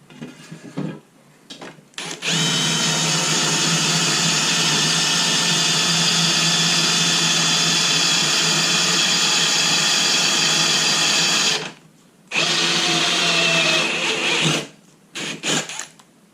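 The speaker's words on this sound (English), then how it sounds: "Now to drill 16 holes with a Hart drill bit" Hart drill bit boring a run of holes, likely through steel, for Ford Bronco rock sliders; a loud, steady drilling whine runs about nine seconds without break, pauses, resumes briefly, then trails off in short bursts.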